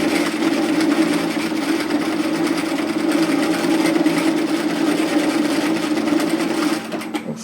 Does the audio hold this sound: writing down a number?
no